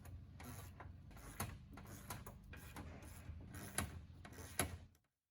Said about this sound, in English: Once all 4 are in place, tighten with your 17mm wrench and socket.